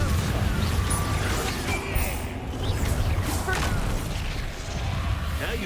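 Blasts and crashing impacts from a Confringo fire spell in the video game Hogwarts Legacy, loud booming explosions and whooshes layered over chaotic combat noise, with a voice shouting over them.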